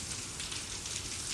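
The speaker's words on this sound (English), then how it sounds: "let's let the rain calm down." Steady rain falls at the Royal Palms Visitor Center in the Florida Everglades, a dense, even hiss of drops on surfaces with no pauses and no voices.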